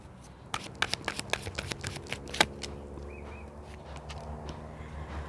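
Tarot cards shuffled and drawn by hand, a quick series of crisp riffling flicks and slaps close by, then softer handling at a quiet level.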